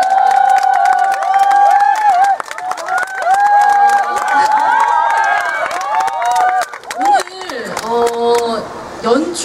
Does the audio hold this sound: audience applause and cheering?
yes